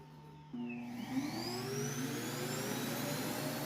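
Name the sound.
iRobot Roomba s9 robot vacuum running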